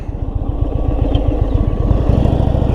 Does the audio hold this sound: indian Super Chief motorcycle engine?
yes